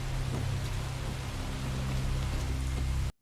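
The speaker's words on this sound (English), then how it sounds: "It's raining pretty hard." Steady, dense downpour of heavy rain, a constant loud hiss with no voices, cutting off abruptly at the end.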